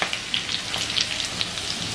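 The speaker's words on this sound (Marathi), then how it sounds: "आलं आणि लसूण आणि मिरच्या थोड्या व्यवस्थित अशा खरपूस अशा थोड्या" Ginger, garlic and green chillies frying in a pan give a steady, close sizzle with scattered crisp pops and crackles, with no talk over it.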